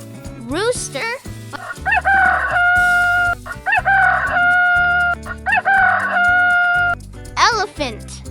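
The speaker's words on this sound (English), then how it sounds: "rooster" A rooster crows three times in long, steady cock-a-doodle-doo calls, loud and close, over bouncy children's nursery music with short voiced notes at the start and end.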